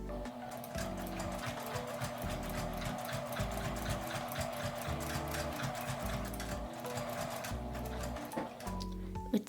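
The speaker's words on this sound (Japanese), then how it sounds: "ゆっくりミシンを回せば大丈夫です" A sewing machine stitches fabric for a small wallet, running steadily with a fast rhythmic needle chatter and low motor hum, slowing into short bursts, close and alone.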